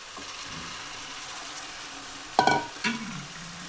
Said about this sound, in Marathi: यामध्ये आपण आता पालक टाकून घ्यायची आहे।